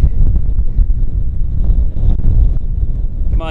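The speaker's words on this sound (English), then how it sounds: "It's very windy out." Strong prairie wind in eastern Colorado roars and buffets the microphone continuously in loud, low rumbling gusts.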